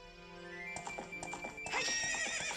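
A horse in Zelda Ocarina of Time 3D gives a bright neigh with clip-clopping hooves, the whinny rising loudly in the second half of the brief clip.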